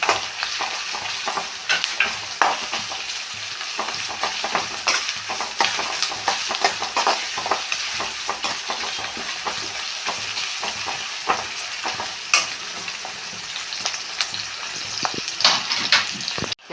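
Crushed ginger, garlic and shallots fry in a pan. The sizzling stays steady and close, broken by frequent stirring scrapes, with no talking.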